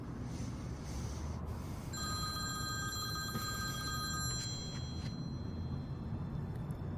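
A telephone rings once with a bright electronic trill lasting about two and a half seconds, fairly clear over a low room hiss, then stops.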